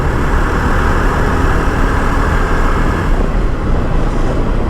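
A Jawa Perak BS6 motorcycle cruises in top gear, its engine a steady, loud, low rumble blended with rushing wind and road noise throughout.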